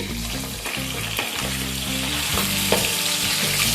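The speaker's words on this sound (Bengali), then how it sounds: "কিছুক্ষণ পরে মাছগুলোকে উল্টে দিচ্ছি" Boal fish pieces hiss and crackle as they are flipped in hot mustard oil, a steady close sizzle with a few soft knocks and stirring scrapes throughout.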